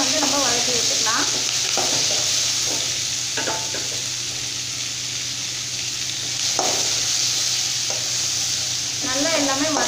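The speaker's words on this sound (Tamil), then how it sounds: "இப்போ இது எல்லாமே சேர்த்துட்டு நல்லா நம்ம வதக்கி விட்டுக்கலாம்" Tomato, coconut and onion sautéing in a pan for a cauliflower and peas kurma: a steady close sizzle with a spatula scraping and stirring through it, plus occasional light clinks against the pan.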